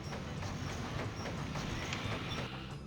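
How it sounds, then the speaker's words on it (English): A train in the Sonic Adventure 2 video game rumbles by with a dense, continuous rolling roar and repeated clacking hits, loud and close throughout. "I made the train appear right in front of me."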